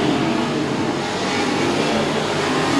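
B-Mod race cars racing at Princeton Speedway, a loud continuous roar of several engines at full throttle filling the air, with no voices.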